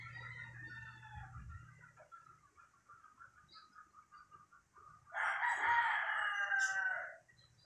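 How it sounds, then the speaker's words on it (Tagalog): A rooster crows loudly and close by in one long, rising call near the end, after softer bird chirps and clucking-like sounds; a brief low murmur is heard at the start. "Ang tawag ng ibon ng Mingming"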